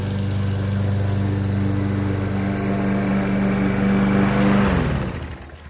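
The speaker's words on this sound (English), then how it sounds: "mowing the lawn or even helping to mow the lawn is exercise" A lawn mower runs steadily at close range while cutting grass, its loud, even engine drone holding for several seconds before winding down and cutting off.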